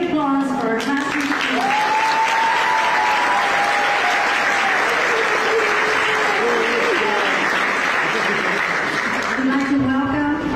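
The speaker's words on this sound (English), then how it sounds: "Again, a big applause for our classroom." A crowd at a graduation ceremony gives sustained, even applause for the graduating class throughout, while a voice speaks over the clapping at the start and again near the end.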